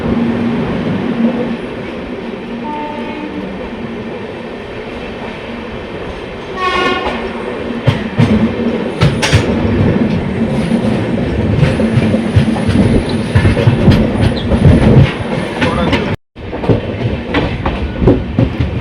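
The 16348 Thiruvananthapuram Central Express, running with new 2024-built LHB coaches, rolls loudly into Kanhangad railway station with steady rumble and clatter, a sharp horn blast partway through, then continued wheel and coach noise close by.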